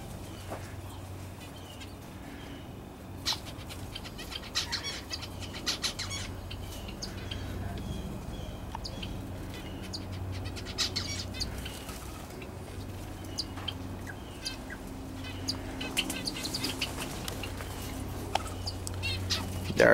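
Finches, including zebra finches and rice birds, and lineolated parakeets chirp and twitter continuously in an outdoor aviary. The mix of overlapping calls is moderately faint, with occasional louder tweets.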